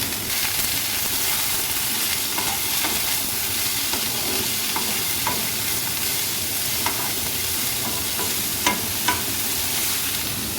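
Bottle gourd sizzles and fries in a pan with salt and turmeric, a steady close hiss broken by repeated scraping stirs and a few sharp clinks, with no voices.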